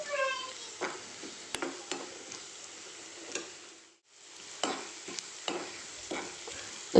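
Prawn and shallot masala with turmeric sautéing in a pan, a continuous close sizzle broken by sharp taps and scrapes of a spoon, briefly fading near the middle before resuming.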